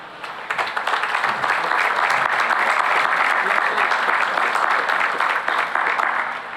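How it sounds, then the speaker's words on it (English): Sustained applause from a crowd at a college commencement ceremony, a dense steady roar of many hands clapping that holds loud and even for several seconds. "I don't blame you for applauding."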